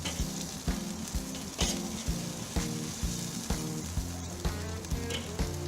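Burgers with BBQ sauce sizzle on a Weber kettle grill in a loud, steady hiss, with soft thumps at regular intervals throughout and no talk.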